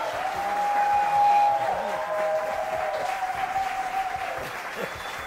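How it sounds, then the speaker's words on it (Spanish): Studio audience of a Saturday TV variety show applauding: sustained crowd clapping with a whistle-like tone and faint voices mixed in, moderately loud and steady. "ahorita el público está aplaudiendo"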